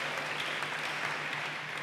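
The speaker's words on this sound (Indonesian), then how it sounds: "Tepuk tangan bagi Allah kita saudaraku." Steady applause from a church congregation during an online service, a dense wash of clapping that holds evenly for its full length at a moderate distance.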